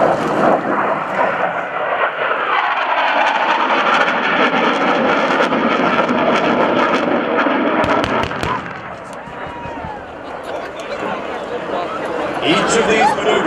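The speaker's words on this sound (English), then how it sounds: "Coming in from your left, low and fast is your F-18." An F-18 fighter jet makes a low, fast pass at a military airshow, a loud roaring rush rising and swelling while a crowd murmurs and an announcer talks over it.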